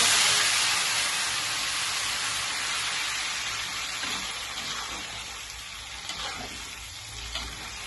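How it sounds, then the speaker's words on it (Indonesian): Ground chilies sizzle loudly in oil left from frying salted fish, making a sambal with jengkol and eggplant. The steady hissing fry eases slightly over time, with no talking. "kita langsung gorengin aja cabenya ya, karena minyak habis menggoreng ikan asin ini wangi banget"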